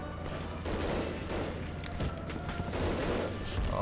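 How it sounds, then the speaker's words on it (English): Machine gun fire in the Medal of Honor: Underground video game crackles in dense, rapid bursts, a loud continuous fusillade of overlapping shots lasting several seconds with no speech. "And there's a machine gun."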